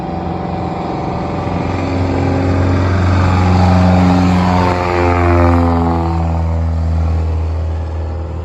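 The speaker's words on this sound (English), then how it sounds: "We'll go ahead and fire up that 160 horsepower Lycoming engine." A 160 horsepower Lycoming light-aircraft piston engine drones loudly and steadily up close, swelling slightly in the middle, with no voices.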